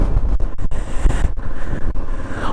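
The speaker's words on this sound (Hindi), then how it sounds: "बहुत तेज़ हवा चल रही है।" Strong wind on the high road from Pangong to Hanle in Ladakh roars loudly into the microphone in uneven gusts and thumps, close and continuous, with no voices heard.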